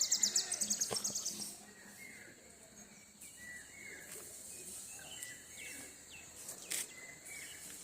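Various birds call on a quiet countryside morning: a quick run of bright chirps opens, then scattered, softer calls and tweets over faint insect buzz.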